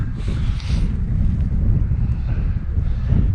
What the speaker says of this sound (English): and it's really windy,